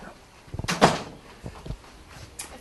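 An indoor door swings open with a cluster of light knocks and a sharp latch clatter near the middle, followed by softer handling thuds and a faint rustle, close by and otherwise quiet.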